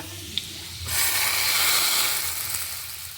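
Dried shrimp curry with chili and curry leaves bubbles and sizzles in a pan, a broad steady hiss that swells after a moment and then holds, with a small click near the start.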